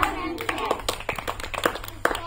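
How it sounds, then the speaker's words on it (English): Seated children clapping their hands in an English instruction game, a series of quick uneven claps at close range over background talk. "Sit down and clap."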